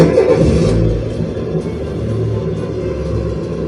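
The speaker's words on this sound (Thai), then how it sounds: "เสียงรถยนต์" A car engine rumbles steadily and close, with a brief rev at the start. It settles into a low, continuous drone.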